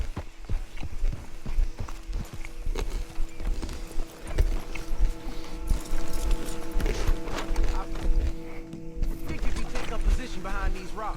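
Horses clip-clop at a walk in the Red Dead Redemption 2 video game, hooves thudding steadily and fairly close under music and game ambience, while people talk over them.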